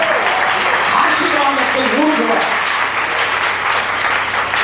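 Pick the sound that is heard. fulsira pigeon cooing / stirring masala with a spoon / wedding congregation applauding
wedding congregation applauding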